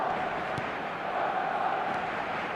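Steady, dense stadium crowd roar in eFootball PES 2025, a broad continuous wash of many voices holding at a constant level for the whole stretch, with no single voice standing out.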